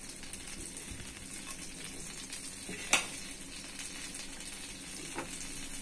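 Cardamom, cinnamon and bay leaves sautéing in butter over a low stove flame for paneer butter masala: a steady, close sizzle throughout, broken by one sharp utensil clink midway and a fainter tap near the end.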